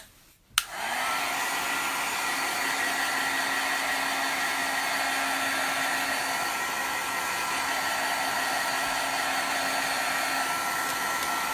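A Mod Podge 2-in-1 heat tool blows steadily over an acrylic-painted mixed media background, switching on with a click and then holding a loud, even whooshing hum close by with no talking.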